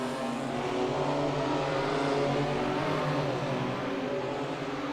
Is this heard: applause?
no